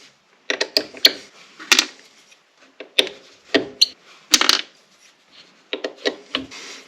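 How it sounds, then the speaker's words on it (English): Metal bolts from a DeWalt DW735x thickness planer are dropped and set into a small parts tray, giving a string of sharp clinks and clatters in irregular bursts, close and fairly loud with short pauses between. "Put your bolts in your little tray."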